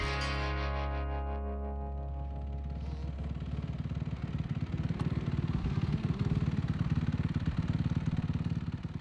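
A Ducati Desmo450 dirt bike engine on its first ride: a smooth revving tone swells, then turns into a loud, rough, pulsing rumble as the bike pulls away and keeps running close by.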